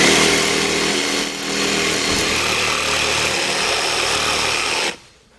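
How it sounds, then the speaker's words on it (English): A jigsaw buzzes loudly and continuously as it cuts through TPO RV roof membrane for about five seconds, then stops abruptly. "Then we can come back with a jigsaw and cut them all out."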